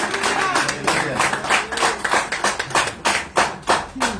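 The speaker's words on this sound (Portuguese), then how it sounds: "com as palmas bem fortes para Jesus" Worshippers at a Tuesday church service clap hands hard in a steady rhythmic beat, close and loud, with voices calling out over the clapping throughout.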